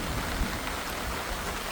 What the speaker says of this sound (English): Now it started raining heavily